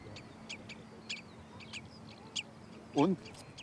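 A colony of gulls and terns calls on the Baltic coast of Wismar Bay, scattered sharp chirps and squawks at a distance, with one louder nearby call standing out.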